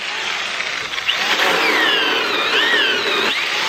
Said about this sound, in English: A tiny mini chainsaw.